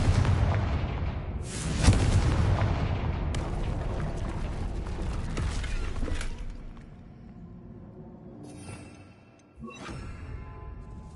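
Confringo fire spell blast in a wizard video game, a big booming explosion with rumbling debris that fades over several seconds, followed by a second sharp crack and lingering crackle.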